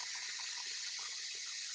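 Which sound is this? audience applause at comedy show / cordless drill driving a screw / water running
water running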